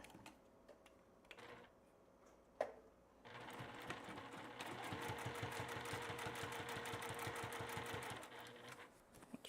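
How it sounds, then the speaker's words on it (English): A Baby Lock sewing machine sews a seam through woven fabric without a walking foot, starting after a brief quiet pause with a soft click, then running as a steady, rapid mechanical chatter close by until it slows near the end. "We're going to sew right on over it without the walking foot."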